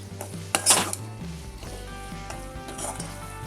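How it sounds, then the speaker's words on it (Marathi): Malvani red masala sautéed in a pan for chicken gravy, with a loud metal spoon scrape and clatter early on, then continuous sizzling and stirring with faint clinks. "चांगला असा हा मसाला परतून घेऊया"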